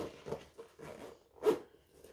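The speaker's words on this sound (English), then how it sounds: "Sorry, I closed my zippers." Several short clothing zipper pulls rasp close by, a few quick zips in a row, then a louder final one.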